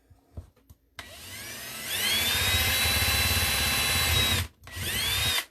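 Power drill running on a clay extruder die in a workshop: a steady, loud whirring motor with a rising whine, a brief stop, then a second short run, close and without talk.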